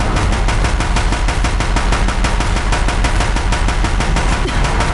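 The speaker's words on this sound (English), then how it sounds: "If the Deathbringers keep firing, this bridge will go." Deathbringer machine guns in Horizon Zero Dawn hammering a bridge, loud rapid-fire bursts in a dense, unbroken rhythm with no talk.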